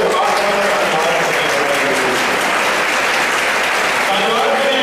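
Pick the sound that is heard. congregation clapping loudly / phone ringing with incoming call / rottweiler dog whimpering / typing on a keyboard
congregation clapping loudly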